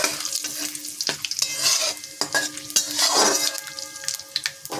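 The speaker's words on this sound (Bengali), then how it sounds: "এবার এই তেলে দিয়ে দেবো জিরা, তেজপাতা আর শুকনো লঙ্কা। ভালো করে ভাজতে হবে।" Cumin, bay leaf and dried red chilli frying in hot oil, a busy continuous sizzle with a spoon scraping and clinking against the pan, close and fairly loud.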